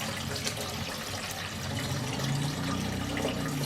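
Water pours into a cooking pot for boiling, a continuous close splashing rush that deepens slightly as the pot fills.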